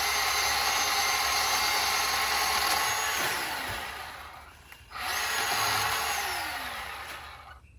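Battery-powered chainsaw cutting mango tree branches on a farm, a loud sustained motor whine that sags under load, dips briefly, then revs back up and fades as the cut finishes.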